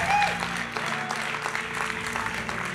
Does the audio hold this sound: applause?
yes